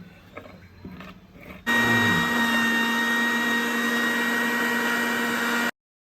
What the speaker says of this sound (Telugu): దీన్ని మిక్సీ పట్టేద్దాం